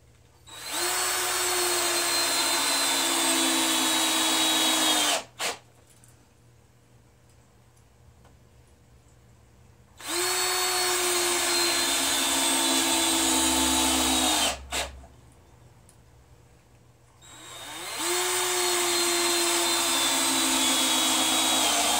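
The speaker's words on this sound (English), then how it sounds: "Now we can attach the other 6 screws" A power drill drives screws into a wooden aquarium stand in three long, steady bursts of whirring, each a few seconds, separated by short pauses, close and loud with no talking.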